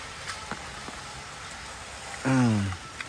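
Rain patters steadily around a rural Thai home, a continuous soft wash of drops, interrupted midway by a short, louder tonal voice or call rising above it.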